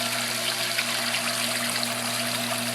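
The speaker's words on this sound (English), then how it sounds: "I wish I did know how much water is flowing right through there" Water flows steadily through a Cetus sieve weir, a continuous even rush with no breaks, heard close up with nobody talking.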